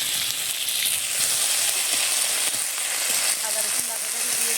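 Ginger and garlic paste sizzles loudly with fried chopped onions in a hot pan, a steady dense crackle and hiss with occasional stirring clicks, continuous throughout.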